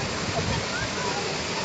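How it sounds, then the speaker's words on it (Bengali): A river waterfall roars as a dense, steady rush of falling water filling the whole scene, loud and unbroken, with voices faintly present beneath it. "আমরা এসেছি উত্তর নদীর ঝর্ণা দেখতে।"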